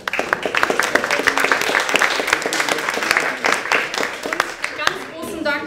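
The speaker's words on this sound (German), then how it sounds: "Auch dafür bitte noch mal kurz einen Applaus." Audience applause at a Skeptics in the Pub talk in Hamburg, a dense steady clapping from a room full of people that carries on for several seconds and thins toward the end, with some talk mixed in.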